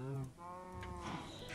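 Minecraft cows mooing in the video game, several low drawn-out moos close by, with someone talking over them.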